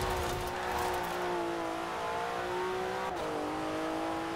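Turbocharged car engine in Forza Horizon 4, revving steadily at high pitch for several seconds, with a brief dip in pitch near the end, loud and without speech.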